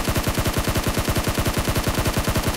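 Rapid, steady automatic gunfire from a PUBG Mobile match, a fast rhythmic burst of many shots running loud and continuous with no talk over it.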